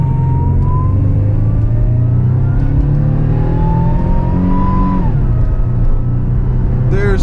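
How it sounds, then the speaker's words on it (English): A stock supercharged 1998 Buick Park Avenue Ultra floored from a dead stop, the engine droning loud and rising steadily in pitch, then dropping sharply on a shift before climbing again, heard from inside the car. "from a dead stop, no brake torque and none of that, flooring it"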